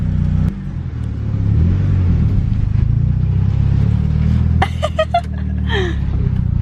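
A Mitsubishi Evo idles with its clutch engaged, giving a steady low rumble with uneven chatter and vibration throughout, close and fairly loud, with a few brief higher rattles near the end.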